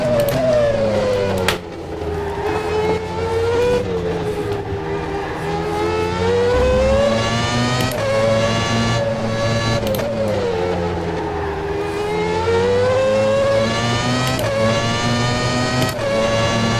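McLaren MP4/13 Formula One car lapping in rFactor 2 at Indianapolis, its high-revving engine loud and close throughout, pitch climbing through upshifts and dropping on downshifts with brief gear-change cuts.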